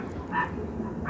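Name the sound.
dog barking outside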